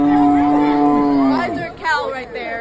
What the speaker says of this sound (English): Why is there a cow right there?